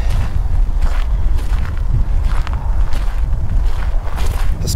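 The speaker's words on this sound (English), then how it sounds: "The wind's really beating me up." Strong wind blasts across an outdoor camera microphone in cold weather, a loud continuous low rumble and buffeting with gusty surges throughout.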